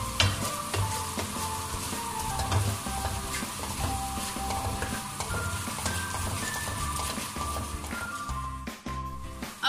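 Masala for chicken karahi roasting in a pan with little oil, a continuous close sizzle with repeated scraping stirs of a spoon against the pan throughout, no talking.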